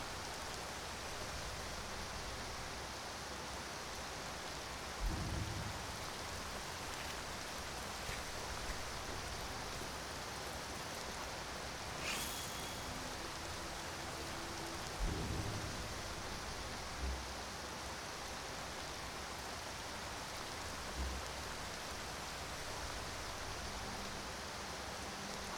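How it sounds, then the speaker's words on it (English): Steady hiss of rain falls in Skyrim (Lorerim), a continuous, even wash with a few faint low thuds scattered through it and no talking. "Oh great, it's raining."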